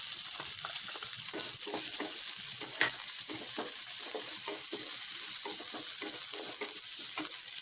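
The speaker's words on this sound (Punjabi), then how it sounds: "ਹੁਣ ਆਪਾਂ ਪਿਆਜ਼ ਪਾ ਦਾਂਗੇ ਇਹਦੇ ਵਿੱਚ" Onion frying in a pan, a dense continuous sizzle with repeated scraping strokes of a spatula stirring at a regular rhythm, close and steady throughout.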